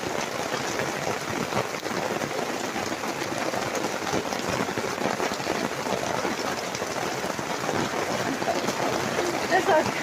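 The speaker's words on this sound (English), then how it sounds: "Because it's really, really hard rain." Heavy rain drums steadily on a garden gazebo canopy in a wild garden, a dense, constant close-up patter with no letup throughout.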